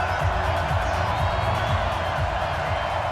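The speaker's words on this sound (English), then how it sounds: "This crowd is ready as their guys get set to match up" Steady crowd roar from a simulated stadium in Madden NFL 20 ahead of a Ravens–Bengals game, a continuous loud wash of cheering with faint whoops and no clear break.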